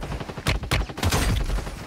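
Sniper fire in a video game comes as several sharp, loud cracks in quick succession, each with a short booming tail, close and prominent with no talking over them.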